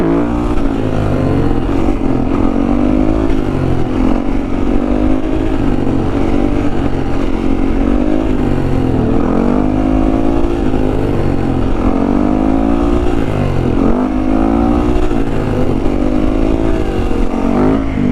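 A 2016 Yamaha WR450 dirt bike roars continuously while being ridden, its engine loud and close with rising and falling revs and no pause.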